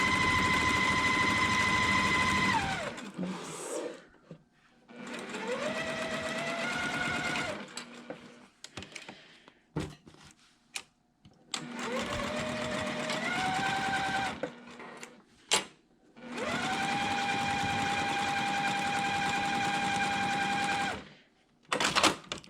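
Sewing machine stitches a quilt block for an hourglass unit, running in four sustained bursts of a few seconds each, with its pitch rising as it speeds up, separated by short pauses and faint handling noises.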